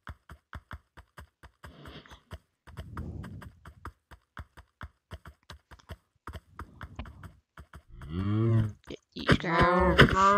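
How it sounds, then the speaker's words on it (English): Donkey hooves clip-clop in Minecraft, a long run of evenly spaced sharp hoof knocks, joined near the end by loud braying-like groans and moans. "This is a pretty fast donkey."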